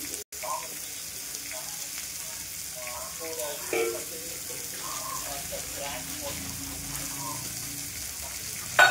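Onion and tomato sauté in a pan for soya kurma, giving a steady soft sizzle with a few scraping stirs partway through and a brief clatter at the end.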